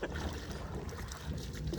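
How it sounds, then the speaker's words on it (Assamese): A rowboat being rowed roughly on the water, with splashy, uneven oar strokes close to the microphone and gusts of wind noise over the top. "ঐ বেয়া নাও মাৰি আছে বে"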